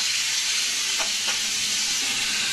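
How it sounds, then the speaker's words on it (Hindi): Chicken fries in a pan with ginger, garlic and chili, giving a constant even sizzle close up, with a couple of soft stirring touches midway. "ये चिकन हमें पका लेना है, जैसे ये फिर से लाइट हो जाए इतनी देर हमने पका लेना है इस चिकन को"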